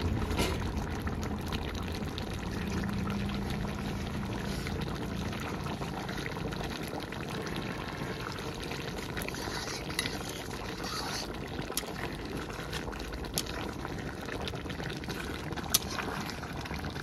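Chicken leg pieces simmer in a pot, giving a steady low bubbling and watery churn with scattered faint pops, close by and unbroken, with no one talking.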